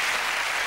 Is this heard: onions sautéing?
no